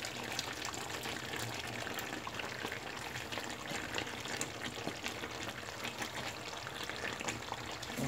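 Leek and vegetables frying in a pan for a potato and chicken stew, a steady close sizzle with soft crackles and a few stirring scrapes running throughout, no talking.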